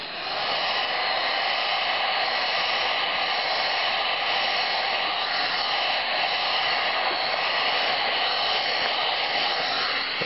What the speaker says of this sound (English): As you can see, a little heat gun.